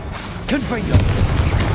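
A Confringo fire spell explodes in Hogwarts Legacy, a short booming blast with a whooshing burst followed by rumbling impact in busy game combat.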